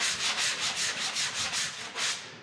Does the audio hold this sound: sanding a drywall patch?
yes